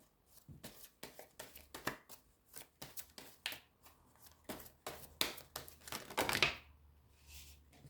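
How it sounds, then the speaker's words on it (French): Cards are drawn from a deck, making a quick run of crisp, papery flicks and snaps close by and fairly quiet, with no voices. "La deuxième carte tirée"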